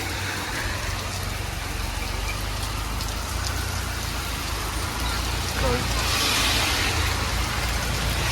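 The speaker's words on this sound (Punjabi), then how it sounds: "ਤੇ ਮੈਨੂੰ ਘੇਰ ਲਿਆ ਮੀਂਹ ਨੇ" Steady rain pouring on surfaces in Italy, a dense continuous hiss with a low rumble beneath, and a faint voice in the background.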